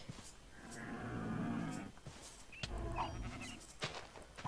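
Cow mooing in Minecraft with the RLCraft modpack: two drawn-out lowing calls, the first longer and louder, over game background noise and brief clicks.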